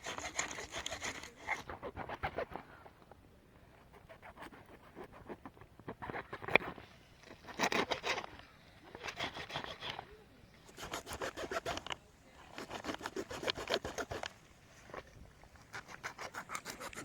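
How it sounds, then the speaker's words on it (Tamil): A knife cutting through a theli fish, repeated rasping, sawing strokes in bursts of a second or two separated by short pauses, close and moderately quiet. "ஒரு வழியா ரொம்ப கஷ்டப்பட்டு இந்த மீனை வந்து நல்லா கட் பண்ணி எடுத்துட்டோம்."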